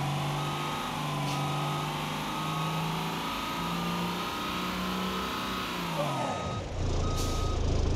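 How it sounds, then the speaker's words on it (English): Trucks in the BeamNG.drive video game sound steady, evenly spaced reversing beeps over a loud running engine drone, which winds down near the end before a hiss like an air brake. "I love the sound of the trucks there."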